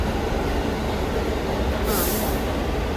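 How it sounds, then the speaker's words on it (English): Interior of a moving New York subway car, a steady loud rumble and rattle of wheels on track with a brief bright squeal or hiss partway through, no talk. "I just hopped on the train from Steps."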